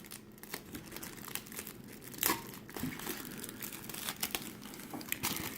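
Sticky plastic film crinkles and peels away from a Stardust toy figure during an unboxing, a close, quiet run of crackling and tearing bursts with one louder rip partway through, no voices.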